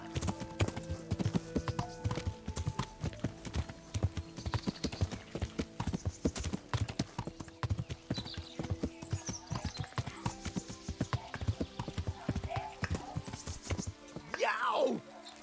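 Horse hooves clip-clop steadily and quickly in the medieval video game Kingdom Come: Deliverance, close and continuous, with a whinny near the end.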